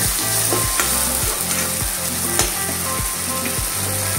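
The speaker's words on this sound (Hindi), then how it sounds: "अब इसे हल्का फ्राई करेंगे।" Ginger garlic paste fries in a hot pan for a chicken bhuna masala, a dense steady sizzle broken by regular scraping stirs of a spoon, close and continuous with no talking.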